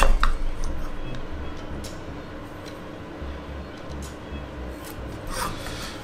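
A pencil or marking tool rubs and scrapes along a wooden workpiece while a line is drawn for a dowel jig, a soft, steady rasping with a few light ticks, close and quiet, without talk.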